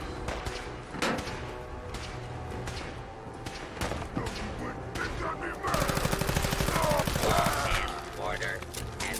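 Gunfire in Fallout 4, during a visit to the Nakano residence: scattered shots give way to a fast, rattling automatic burst near the end, all set against a busy game soundscape with some speech mixed in.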